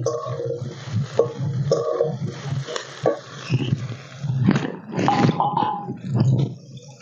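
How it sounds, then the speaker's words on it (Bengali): A spoon stirs chopped capsicum in a pan for a quick pasta dish, making soft, repeated scraping and shuffling strokes with light sizzle beneath, close and moderately loud. "ক্যাপসিকামটা দিয়ে আমি ভালোভাবে নেড়ে নিচ্ছি"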